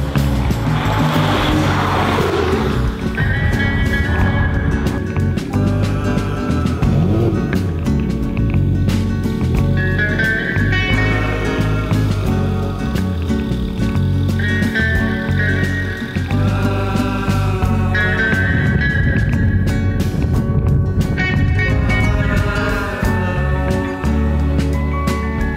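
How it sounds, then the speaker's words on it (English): Porsche 911 GTS with flap exhaust under way, a loud, rough engine note rising and falling through repeated gear changes, close and continuous, with music playing over it. "The flap exhaust sounds even rougher than the S ruts."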